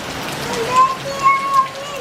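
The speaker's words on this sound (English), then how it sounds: "Just a few minutes of rain and that's how it looks right now." Heavy rain from a storm in Casino, New South Wales, Australia, pours in a dense continuous hiss, with a few faint high tonal squeaks riding over the downpour.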